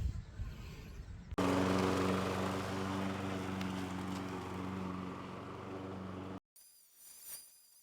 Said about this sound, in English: what I need to do now is mow this down super short